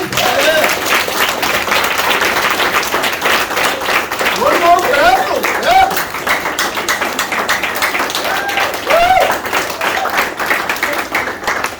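An audience at an evening soiree gives sustained, loud applause with dense clapping, and voices and cheers mix in throughout.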